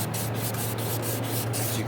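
Sandpaper rubbed back and forth on a faded plastic car headlight, a steady rasping scrub with regular strokes about four per second over a constant low hum.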